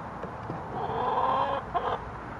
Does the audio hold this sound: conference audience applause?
no